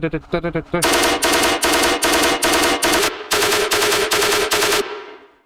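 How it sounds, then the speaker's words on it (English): Machine-gun gunfire sound effects in an electronic music track, coming in as rapid rhythmic bursts in a galloping pattern, loud and punchy, ending with a short decaying tail. "we got the same guns kind of coming in for like a gallop"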